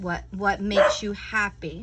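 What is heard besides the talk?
dog barking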